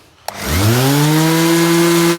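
An electric sander switches on with a click and whirs up to a steady, loud humming whine on wood.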